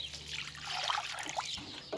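Water trickles and splashes softly while chicken water bowls are rinsed, a faint continuous dribble with a few small splashes, heard alone without talk.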